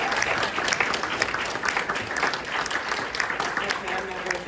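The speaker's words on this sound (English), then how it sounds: "Phillips another round of applause." Guests at an evening celebration give Dr. Phillips another round of applause, a steady patter of many hands clapping at moderate volume, with some voices mixed in.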